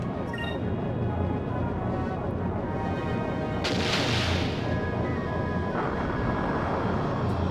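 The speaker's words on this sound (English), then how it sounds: "And Enrique, you start firing off another 10-inch." Heavy ship cannon fire from a 10-inch gun in the airship battle game Skies of Arcadia, a dense sustained roar with a booming blast surging midway, loud and continuous.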